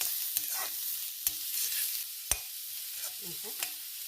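Onion and ridge gourd stirred and roasted in a pan: a gentle continuous sizzle with several sharp clicks of a spoon against the pan, quiet and close, no one speaking.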